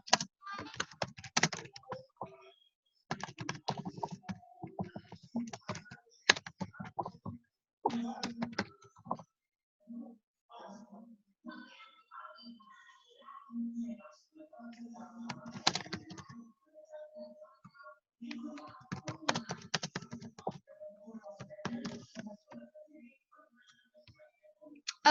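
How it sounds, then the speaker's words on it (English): Typing on a computer keyboard in bursts of quick close clicks and taps, pausing briefly between runs, with faint talk now and then. "I will just do the typing."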